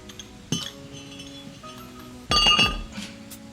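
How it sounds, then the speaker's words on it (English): A brake rotor being removed from a Mustang, heard as two bright metallic clinks and clangs, the second one louder and longer with ringing overtones. "Taking out the rotor."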